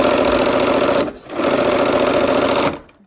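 Sewing machine stitching a long quilt sashing strip, a loud steady close motor whir with rapid needle rhythm, pausing briefly midway and then running on before winding down.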